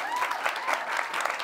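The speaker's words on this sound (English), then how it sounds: "cue applause" A studio audience applauds at the close of a comedy show, a short, full burst of clapping.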